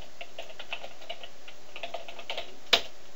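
Light, quick typing on a computer keyboard, a steady patter of soft key taps close by, ending with one sharper, louder keystroke near the end; no talking.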